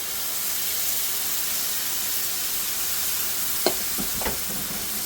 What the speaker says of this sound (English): we're going to add the base gravy